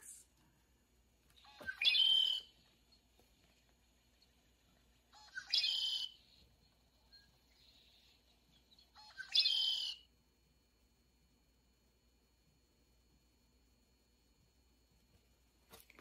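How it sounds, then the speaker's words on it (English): Three short, bright red-winged blackbird songs spaced a few seconds apart, each a harsh gurgling burst ending in a trill, heard outdoors with quiet gaps between. "let's have a listen to the song that the red-winged blackbird makes."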